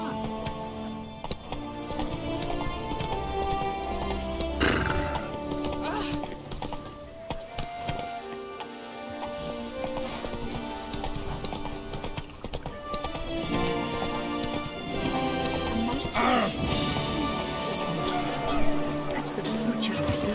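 Roach the horse's hooves clip-clop steadily on the ground in The Witcher video game, blended under constant music, with voices talking over them throughout.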